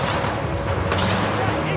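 Rapid gunfire from the video game Titanfall 2 fills the clip, a dense, loud stream of shots layered with game effects and continuous background noise.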